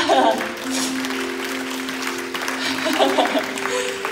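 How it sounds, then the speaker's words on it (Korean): Church youth congregation clapping at a send-off service, moderate applause with some voices and tonal sounds mixed in underneath. "박수합시다"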